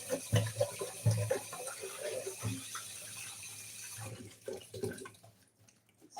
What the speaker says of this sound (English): So I'm going to start by cleaning up my pan.